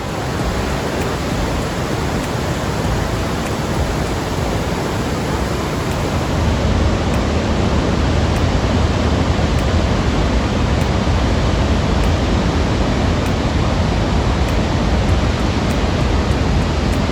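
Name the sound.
Montmorency Falls waterfall, Quebec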